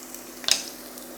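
Onions dropped into hot oil already flavoured with garlic, giving a brief, soft sizzle burst near the middle with light clatter, faint and close, no talking.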